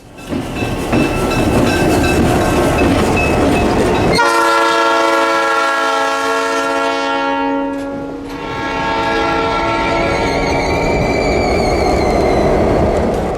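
A loud train, Clinchfield 800, rumbles past close by, then a long multi-tone horn blares for several seconds, pauses briefly and sounds again over the rolling cars.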